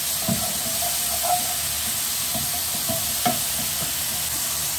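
Leeks and smoked haddock cook in a pan with a steady, close sizzle and hiss throughout, broken by a few soft stirring knocks, with no talk.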